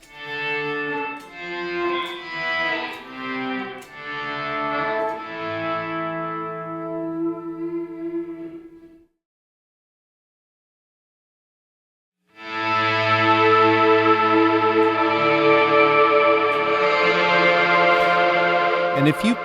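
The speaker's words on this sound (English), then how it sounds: "if you crank the decay, the swell turns into a nice reverb tail at the end" Guitar chords played through an ALABS Cetus ambient reverb pedal swell in softly and ring out into a long fading tail. After a few seconds of silence, a dense, loud, sustained reverb wash returns.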